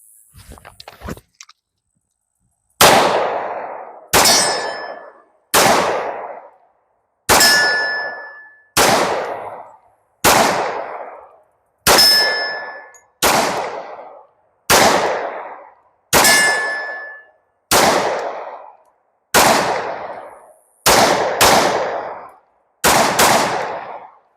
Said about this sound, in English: I'm gonna just draw both handguns and try to hit the blue target on the left.